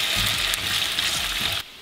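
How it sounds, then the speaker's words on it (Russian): Potato pieces fry in a pan of oil over medium heat, giving a steady, close, dense sizzle that runs for under two seconds and then softens abruptly. "Просто жарим картофель 10 минут на среднем огне."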